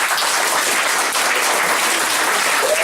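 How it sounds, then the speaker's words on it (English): Crowd at County Comedy Club bursts into applause as the next act is brought on, a thick, continuous wash of many hands clapping, loud and unbroken throughout. "Let's get a round of applause going again"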